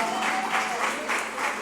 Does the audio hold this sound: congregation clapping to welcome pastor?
yes